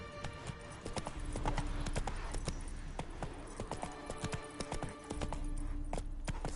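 The horse Roach gallops in The Witcher 3, its hooves striking in a quick, steady clip-clop rhythm, fairly quiet, with a brief whinny-like tone and no speech.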